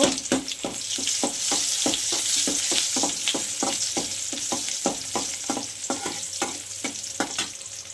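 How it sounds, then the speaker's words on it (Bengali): Chopped onion frying in hot oil sizzles steadily while a spatula scrapes and stirs in a quick regular rhythm of repeated strokes, close and fairly loud, with no talking. "তেলটা গরম হয়ে গিয়েছে তো আমি পেঁয়াজ কুচি দেবো তেলে বাবা কাজটা আমি নাড়াচাড়া করে নেব"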